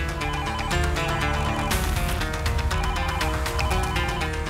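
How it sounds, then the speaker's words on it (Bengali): A landline telephone rings in a loud, repeating electronic pattern, filling the whole stretch without any talking. "ল্যান্ডলাইনে ফোন এসছে, আমি দেখছি।"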